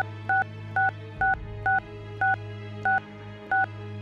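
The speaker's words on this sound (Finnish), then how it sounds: "Soitetaan nyt vaan äkkiä tähän, niin se on sit alta pois." Telephone dialing tones while calling a number: seven short, evenly spaced DTMF beeps, clear and close, over a steady low hum.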